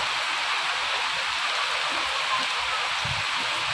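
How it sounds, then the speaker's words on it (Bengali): Heavy rain pours down steadily as a dense, constant hiss close by, with no pauses or talk across the stretch. "এই যে বৃষ্টি তো ভালোই হচ্ছে, এখন অনেক বৃষ্টি হচ্ছে"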